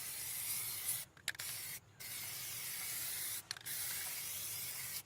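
An aerosol can sprays a heavy final coat of PlastiDip onto car wheels, a close, continuous hiss broken by three brief pauses.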